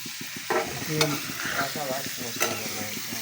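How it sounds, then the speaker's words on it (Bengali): Fish being mixed by hand with salt, oil and turmeric, giving soft wet squelching and rubbing noises close by, with short louder handling bursts and a faint background hum. "মাছ মেখে নিব তাতে মাছের গায়ে লবণ তেল হলুদ সম্পূর্ণ লেগে যায়"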